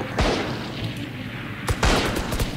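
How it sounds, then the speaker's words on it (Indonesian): Gunfire strikes a wall in a shooting video game, loud close shots in two bursts, a single crack followed by a rapid volley of several shots about a second and a half later, with no speech. "Hartono nembak tembok."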